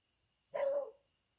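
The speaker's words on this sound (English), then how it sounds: "You hear my dog?" A young dog barks once from a short distance indoors, a single sharp yelp-like bark lasting under half a second in an otherwise quiet room.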